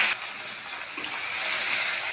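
Khoira fish going one by one into hot mustard oil in a pan, giving a steady, loud hissing sizzle that runs unbroken throughout, with no talk.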